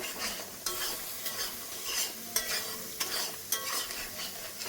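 Spice masala frying in a pan with a little water added, stirred with a utensil: a steady loud sizzle broken by repeated scraping strokes, close up, with no voices.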